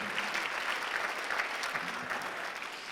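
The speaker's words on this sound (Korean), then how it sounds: "박수하세요. 선택의 결과랍니다." Church congregation applauding during a Sunday worship service, steady dense clapping from a large crowd filling the whole short stretch at even volume.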